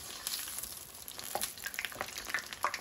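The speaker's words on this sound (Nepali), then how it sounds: "फ्राई गर्ने" Food fries in hot oil, a dense crackling sizzle with small pops and bubbling close by, continuous and moderately quiet with no voices.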